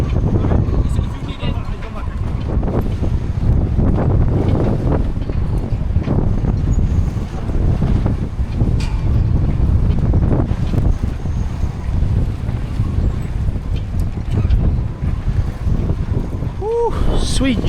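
Gale-force wind roars across a harbour after a sailboat docks, a constant heavy buffeting rush with microphone wind noise that stays loud for the whole stretch, while people talk beneath it.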